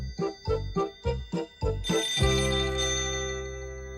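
A phone rings in a Doraemon cartoon episode, a repeated electronic ringtone pattern of several short bursts followed by a sustained tone that slowly fades, with no one speaking.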